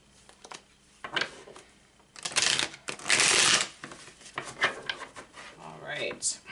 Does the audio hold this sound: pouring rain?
no